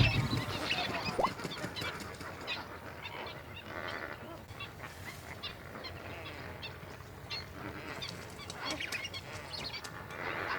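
Flamingos and other water birds call at a Kenyan lake, Lake Nakuru: a dense, continuous chorus of honking, gabbling calls from a large flock at mid distance, with wind and a soft outdoor background.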